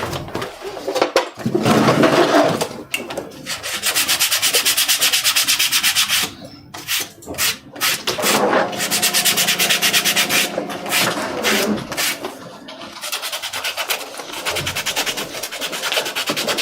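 Sandpaper works over a leather briefcase in long, continuous abrasive rubbing strokes. The strokes are loud and close, with brief pauses between passes.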